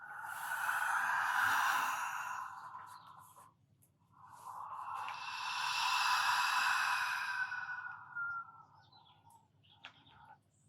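Slow Ujjayi breathing with a soft, hissing throat sound, two long wave-like breaths rising and falling gently, close and quiet with no talk.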